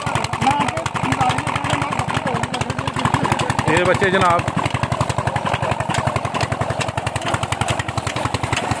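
An engine-driven sugarcane crusher runs outdoors at a village jaggery-making site, a loud rapid mechanical thumping pulse that continues without a break while someone talks over it.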